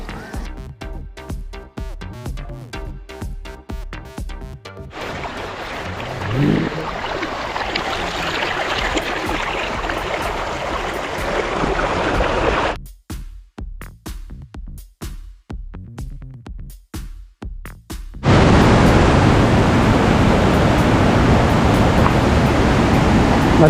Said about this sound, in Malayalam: നല്ല ഒഴുക്കുണ്ട്, കണ്ടിന്യൂസ് ആയിട്ടുള്ള മഴയായതുകൊണ്ടേ.